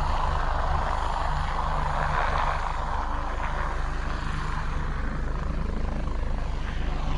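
Helicopters fly overhead on military-style training runs near a lake, a steady broad rotor drone rumbling loud and continuous throughout, with no one speaking.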